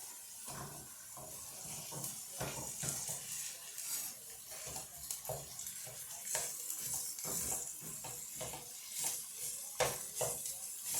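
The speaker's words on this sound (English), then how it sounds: "we'll put our hamburger in each skillet and start browning" Hamburger meat browning in a skillet, frequently stirred and broken up: a soft continuous sizzle and hiss with repeated scraping strokes of a utensil against the pan, close and moderate, no speech.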